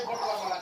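Hens and chicks cluck on a small poultry and goat farm, a brief burst of soft overlapping clucks heard fairly near.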